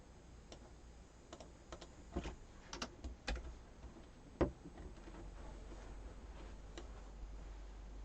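Fingers type on a computer keyboard in quiet, irregular clicks and short bursts, with a few louder key strikes standing out and pauses in between, fairly close in a calm room.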